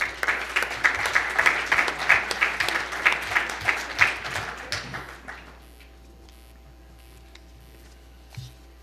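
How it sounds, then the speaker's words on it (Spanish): An audience at a panel event on regulation claps for about five seconds in a dense, lively patter. The applause then dies away to room quiet, with one stray clap near the end. "Por favor, aplausos."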